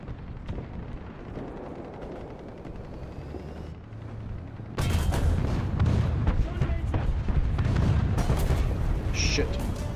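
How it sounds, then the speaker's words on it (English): Artillery fire in a video game: rumbling, overlapping booms and bursts that grow louder and denser midway, with a person talking over the barrage. "Oh, artillery."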